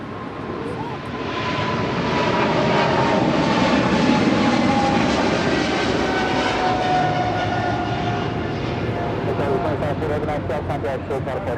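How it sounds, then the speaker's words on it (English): A China Southern Cargo Boeing 777 freighter takes off from Los Angeles International Airport, a loud sustained jet roar that swells and holds, heard from nearby; a voice speaks over it. "That is China Southern Cargo Flight 2540 departing to Guangzhou on a 777 freighter."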